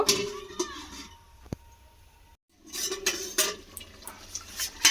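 A lid set down on a cooking pot of soybean and steamed egg curry gives one sharp metallic clink with a short ringing tail, surrounded by kitchen clatter and watery noise.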